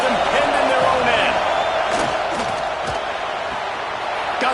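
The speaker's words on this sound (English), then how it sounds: "The roar of the crowd trying to fuel this defense to keep them pinned in their own end" Stadium crowd at a college football game, Arkansas versus Georgia, roaring steadily and loudly throughout, a dense sustained wash of voices with scattered whoops and cheers rising above it.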